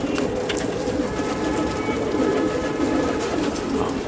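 Pigeons in a loft cooing continuously, a dense, close, low murmuring chorus with wing flutters, no speech.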